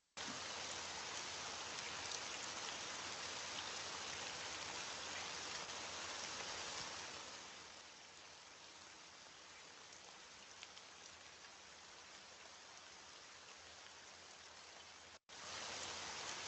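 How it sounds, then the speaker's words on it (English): Recorded rain played back through a small device, a steady hiss of falling drops and surface patter, louder at first then dropping to a softer, thinner wash before briefly cutting out and resuming; no voices. "listening to rain sounds to relax ourselves, to go to sleep"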